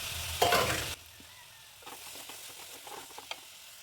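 Crushed ginger, garlic and shallots hit hot oil in a pan for egg curry, giving a loud burst of sizzling and stirring that drops to a quieter, steady frying with light clinks.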